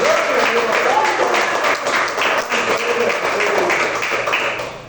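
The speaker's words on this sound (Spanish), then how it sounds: "Denle un aplauso a Cristo en esta mañana." A church congregation claps together during a morning service, a fairly loud, dense patter of hands that fades slightly toward the end.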